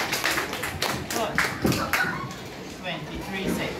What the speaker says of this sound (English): Give them a clap for me.